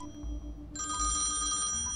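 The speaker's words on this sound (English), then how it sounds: "We're getting a phone call." Telephone ringing in the point-and-click adventure Thimbleweed Park, a bright electronic bell trill starting suddenly and continuing steadily, close and loud over a low ambient music hum.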